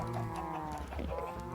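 Cows low in a blocky game world, several overlapping moos drawn out across the short span, loud and close with a dense, buzzing tone.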